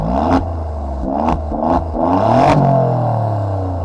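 Alfa Romeo Giulia Quadrifoglio with a Ferrari-derived V6 and stock exhaust revving loudly up close, several sharp blips climbing and falling before a longer rev settles into a throaty idle.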